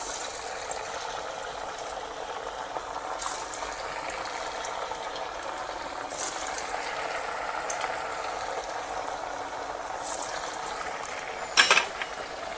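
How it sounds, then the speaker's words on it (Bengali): Sabudana vada fry in hot white oil in a kadai with a steady, close bubbling hiss and occasional brief crackles and clinks, with no talk. "তো বন্ধুরা দেখুন আমার তেল গরম হয়েছে, এখন আমি একটা করিয়া বড়া দিব"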